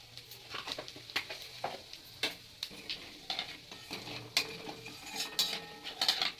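Cumin seeds and dried red chillies hit oil left from frying paneer, giving a faint crackling sizzle with scattered clinks and scrapes of a spoon against the pan, quiet and close.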